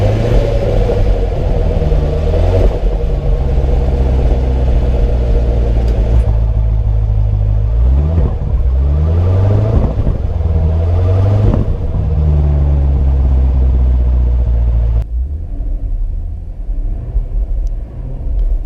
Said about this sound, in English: there's a drastic change in the exhaust